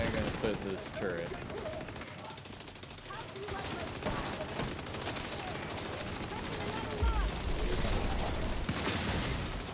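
Sustained automatic gunfire from a deployed turret in The Division 2, dense and rattling with scattered heavier bursts and game effects, running the full length with a voice faintly present underneath.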